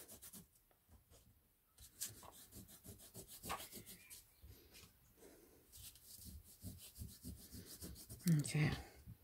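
Soft, uneven rubbing strokes as a product is worked gently over an embossed card to bring out the relief, close and quiet with short pauses, louder toward the end.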